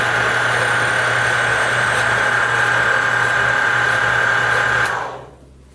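A Harbor Freight bandsaw running with the blade tracking, a steady loud motor whir with a constant tonal hum that holds for about five seconds, then winds down and fades out.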